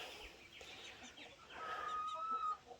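Baby chickens and baby turkeys peep and cluck softly in a grassy pen, a thin high whistle-like call standing out midway, with faint ambient noise and no talking.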